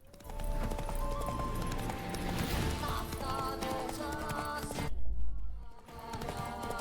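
Horse hooves in The Witcher 3 video game, a steady rapid clip-clop of galloping over ground with game music beneath and a brief snort partway through.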